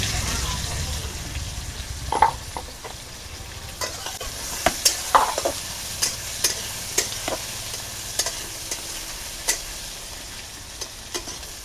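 Sliced onions frying in a pan, a steady sizzle broken by repeated sharp clinks and scrapes of stirring at irregular intervals, heard close with occasional background noise.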